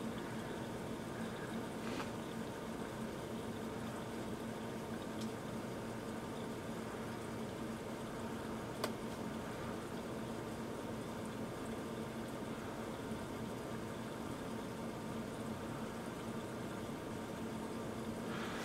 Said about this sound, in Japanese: 今まだ沸騰してますからね、 壁面が熱いので。